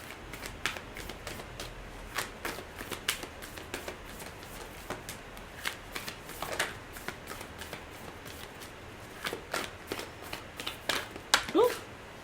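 Tarot cards being shuffled by hand, a quiet riffling and flicking that comes in irregular bursts with soft taps, close and alone with no voice over it.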